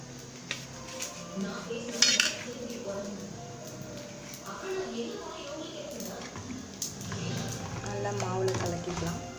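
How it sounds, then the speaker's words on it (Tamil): A spoon stirs mudakathan dosa batter mixed with chopped onions in a bowl, with soft scraping and intermittent metallic clinks under a voice talking nearby. "மாவு நல்லா கிளறியாச்சு."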